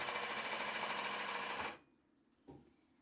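A sewing machine stitching a pair of shorts runs in a steady, fast whir close by, then stops abruptly, followed by a short mechanical clunk.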